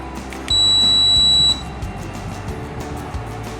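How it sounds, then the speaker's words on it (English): A single sharp, high electronic beep from an RV door lock, lasting about a second, loud and close, followed by quiet background hum. "Okay, so you heard a short beep."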